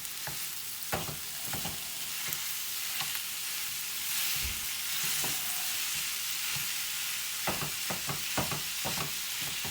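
Frying 80-20 ground hamburger sizzles steadily, with scraping clicks and taps as a tool breaks the meat apart in the pan, close and continuous without talk.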